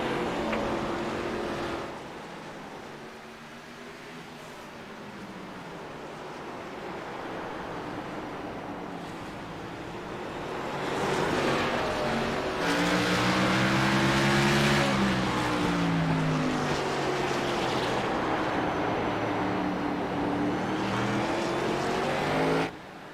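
Stock race cars circling the short track at Martinsville during a 200-lap race, a steady loud engine roar that swells and fades as cars pass, with harmonic whines rising and falling and no talk.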